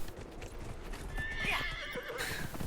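A horse gallops in the Dragon Age Inquisition video game, with quick clip-clopping hoofbeats and a whinny partway through, fairly close and clear with no talk.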